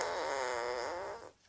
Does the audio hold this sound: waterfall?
no